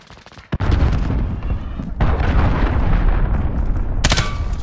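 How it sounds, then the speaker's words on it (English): Cruise missile strike explosions in Call of Duty Modern Warfare, a loud run of blasts and booming impacts that sound in dense repeated bursts across the whole stretch, with a sharp new burst near the end. "Allied cruise missile launched."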